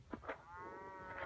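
Cow mooing in the video game Survival Craft, a single drawn-out low moo preceded by a couple of short grunts, close and fairly quiet, heard alone.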